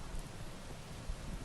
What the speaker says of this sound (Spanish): unos chubascos que han caído de forma muy fuerte, muy repentina